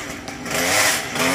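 A chainsaw cuts down a coconut tree in the rain: a loud, steady engine whine that swells in pitch as the blade bites, close by, with no voices.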